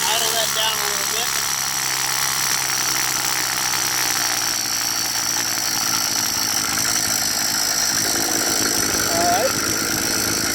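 A motorized bike's small engine runs steadily with a buzzing, raspy drone that shifts pitch slightly as the throttle changes, close and loud, with a person talking over it.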